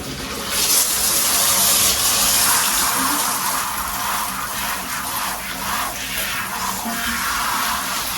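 Running water gushes steadily and loudly while something is rinsed off, a continuous splashing rush that holds without pause from start to end.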